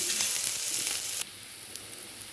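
Onions frying in a pan give a steady, close hiss of sizzling. It drops to a lower, still continuous sizzle about halfway through, with no voices.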